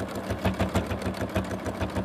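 A sewing machine free-motion quilts a flower, its needle pumping in a fast, even rhythmic chatter of about six strokes a second, close and steady throughout with no voices.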